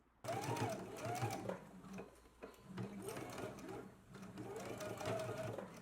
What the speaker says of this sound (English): we are going to be stitching in a 1/4 inch seam allowance